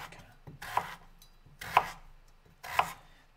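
A knife chops potatoes into medium pieces for roasting, giving three crisp, close strikes about a second apart against a quiet background, with no talking.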